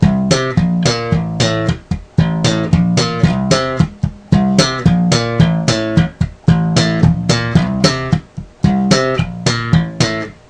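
Slap bass guitar playing a down-and-up octave pattern, a loud, steady stream of punchy, percussive slapped and popped notes in a driving repeated rhythm with brief gaps between phrases, close and alone.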